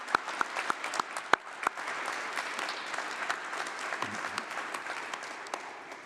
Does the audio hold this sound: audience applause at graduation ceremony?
yes